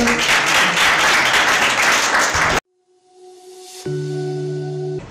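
Audience applause at a school speech competition fills the first half loudly and densely, then cuts off abruptly into near silence, followed by steady electronic tones.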